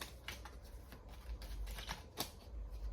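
Tarot cards are shuffled in a few quick, soft riffling bursts, close and quiet, with no talking.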